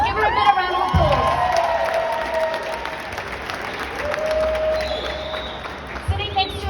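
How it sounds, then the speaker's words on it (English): Crowd at a City of Johannesburg gathering applauds and cheers for the Deputy Speaker, a councillor, with shouting and whooping voices, some childlike, rising above scattered clapping near the start and end. "give her a bit of round of applause"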